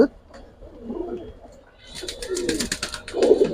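Close, low cooing from silver military jabra pigeons rises in soft throaty phrases, quiet at first and then fuller, ending in a louder coo, with light rustling in between.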